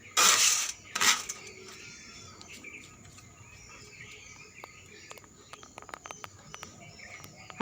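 Fried rice is stirred in a pan, starting with two loud rustling scrapes and followed by sparse, faint metallic clinks and taps of the utensil against the pan.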